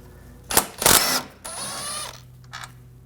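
Driveshaft coupler bolts being removed with a T50 socket on a 2007-2013 BMW 328i 3.0L L6, close mechanical whirring and ratcheting in short bursts, a longer steady run, then a brief final burst.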